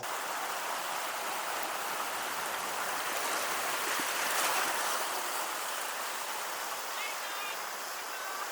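Water rushes steadily and evenly, like a nearby river flowing over rocks, with no voices.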